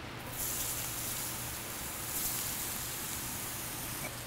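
Onions sizzle in a hot pan just after eel has been cooked in it, a steady, close hiss of frying that holds evenly throughout with no talk over it.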